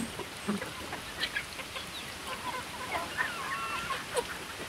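Chickens cluck and murmur softly at a moderate distance, scattered calls over a steady background hiss, with no voices.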